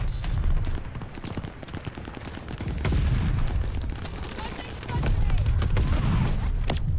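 Dense, continuous gunfire and bursts in the video game Call of Duty Vanguard, loud and sustained throughout with repeated sharp reports over rumbling booms.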